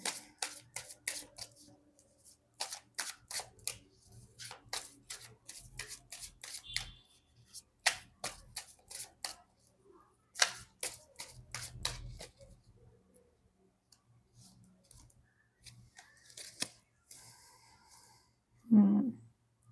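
Tarot cards are drawn from the deck in a series of close, crisp shuffles, slides and flicks, sparse and irregular with quiet gaps, and a brief vocal sound near the end.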